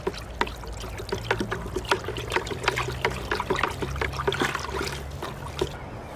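Lime being stirred into water to dissolve it for Bordeaux mixture, with repeated close sloshing and trickling splashes in an uneven rhythm.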